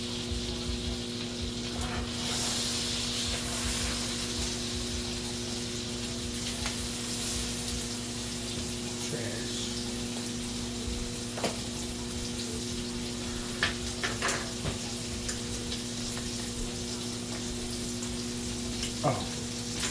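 Steak sizzles and fries in a pan, a soft, steady crackle with occasional louder pops and faint clinks of utensils, heard close and alone without talk.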